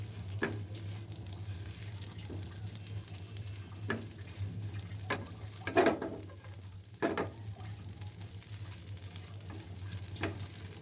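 Pasta tossed with pasta masala spice in a frying pan gives a steady low sizzle, broken by several sharp spatula scrapes and clinks at irregular intervals. No one talks.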